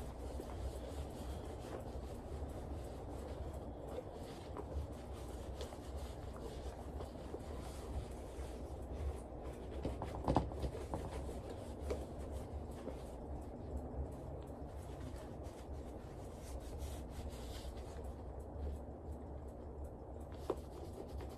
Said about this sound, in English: I just rub in the oils and not everything else